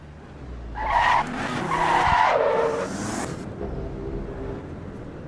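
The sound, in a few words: race car skidding in a racing video game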